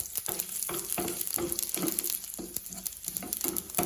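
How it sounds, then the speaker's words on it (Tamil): Mustard seeds, urad dal, cumin and dried red chillies fry in hot oil for a ladies finger masiyal, with a close sizzle punctuated by rapid small pops and crackles and the occasional stir, without talking. "கடுகு பொரியுது பாருங்க"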